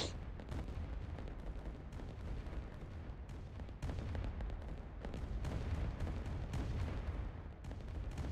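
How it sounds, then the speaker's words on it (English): Artillery in the Rise of Nations strategy game fires repeatedly, a dense rumbling barrage of booms that stays steady and fairly distant, with no talk over it. "Bulgaria is trying to capture a city with his artillery."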